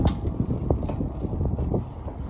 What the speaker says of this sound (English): The window is open, that's why it's a little windy